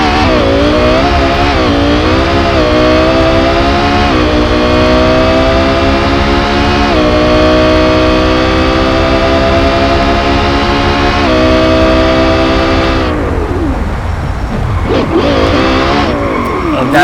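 Race car engine in the Gran Turismo 2 video game, a loud continuous whine climbing through repeated gear shifts, each ramp rising then dropping, and breaking into rough revving and skidding bursts near the end.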